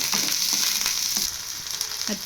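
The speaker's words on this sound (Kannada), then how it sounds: "ಈಗ ಈರುಳ್ಳಿನ ಫ್ರೈ ಮಾಡ್ಕೊತಾ ಇದ್ದೀನಿ" Sliced onions fry in a couple of spoons of oil, giving a steady, close hiss with light stirring taps now and then.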